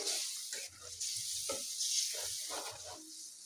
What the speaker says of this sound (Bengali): এই যে কিভাবে নাড়াচাড়া করি